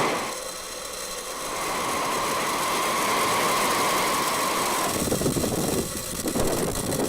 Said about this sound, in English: Ignition. Liftoff on the Falcon 9.